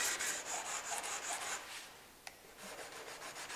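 Scotch-Brite pad rubbed back and forth over varnished wood, soft repeated scuffing strokes close up and quiet, with a short pause and a small tap midway before the rubbing resumes.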